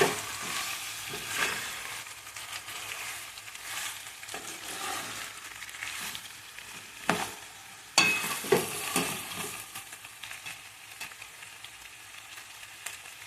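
Chicken curry frying and sizzling in a pan as it is stirred, with a steady hiss and scattered scraping clinks from the spoon throughout, close and continuous with no talking.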